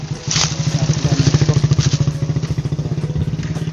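A nearby motorcycle engine chugs with a steady, rapid low pulsing throb, fairly loud and close, easing slightly toward the end.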